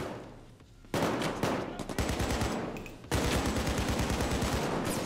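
Rapid automatic gunfire during a jewellery store heist in the video game PAYDAY 2, a brief shot or two, then long loud bursts of fast rhythmic shots close up, with a short pause between volleys.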